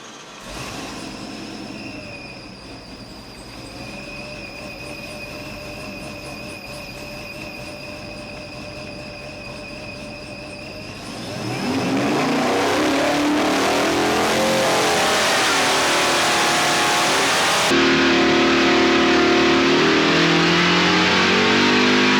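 A supercharged 426 Dart Gen III Hemi engine runs on a dyno, first holding a steady whining idle, then roaring up loudly under load into a sustained high-rpm pull, very close and loud.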